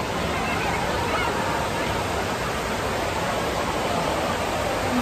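Steady, loud rushing of falling water from an indoor water park waterfall at Fallsview fills the whole stretch, a dense continuous roar with no breaks.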